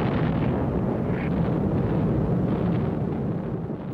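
Incendiary bombs released in their thousands of tons from B-29 bombers at low altitude during a WW2 firebombing raid, heard as a loud, continuous, rumbling roar that fills the whole clip without pause.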